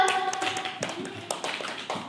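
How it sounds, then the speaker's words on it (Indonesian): Scattered clapping from a workshop audience on digital marketing, a few uneven claps close by over a background of tones and murmuring voices. "boleh tepuk tangan dulu teman-teman"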